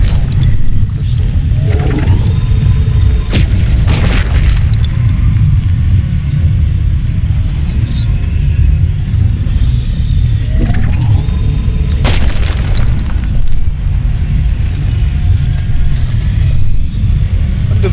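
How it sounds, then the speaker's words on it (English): Loud, steady low-frequency hum and rumble of a power plant in the Subnautica 2 video game, filling the whole stretch without pause, with occasional metallic clanks and bursts rising above the drone. "Man, that power plant is loud."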